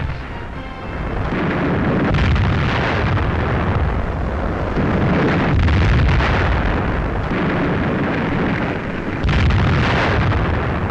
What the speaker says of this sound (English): The cannon salute touches off exultant celebrations